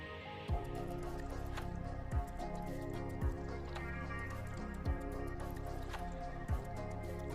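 Chicken pieces are stirred with vegetables in a pan, giving soft wet squishing strokes roughly once a second over a quiet background.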